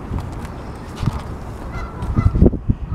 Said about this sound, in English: lots of geese are going by